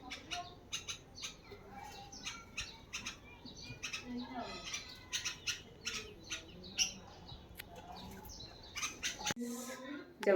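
A bulbul calls with repeated short squawks and chirps while bathing in a small backyard water bowl, the bursts coming close and fairly loud over a steady household background, with a brief louder sound near the end.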